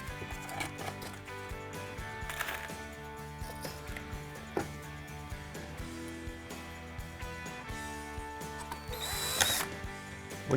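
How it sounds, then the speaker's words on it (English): A power drill drives sheetrock screws into pieces of habitat rock, giving steady mechanical whirring with repeated short bursts and clicks, close and fairly quiet, with no talking. "When you're screwing the pieces of rock together, it's fairly critical to countersink the heads of the sheetrock screws."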